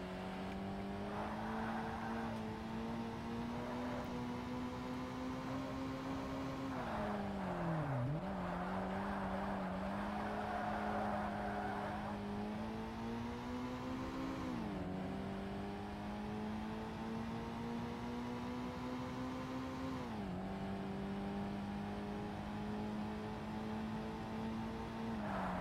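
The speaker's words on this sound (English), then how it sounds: "Oh, I'm revving the arse off the engine here." A car engine revs hard in the racing game Forza Motorsport, a loud, sustained droning whine that dips and climbs in pitch at a few gear changes and holds steadily high throughout, with no talk.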